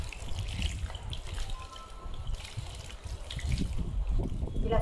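Water trickles and splashes as it is poured over freshly added potting soil while planting a curry leaf sapling, a soft, continuous gurgling that grows slightly louder toward the end.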